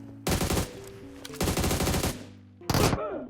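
Automatic gunfire in PUBG Mobile comes as three loud, close bursts of rapid shots separated by short pauses, with the last burst briefest.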